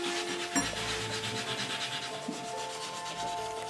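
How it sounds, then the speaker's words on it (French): Steady rubbing and scrubbing as brass fittings are cleaned on a 1930s leather object, a continuous close abrasive swish with a soft knock near the start. "On va prendre soin de nettoyer les laitons"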